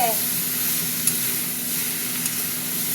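Colourful vegetables fry in a pan with a steady close sizzle and a couple of faint scraping stirs, no voices over it.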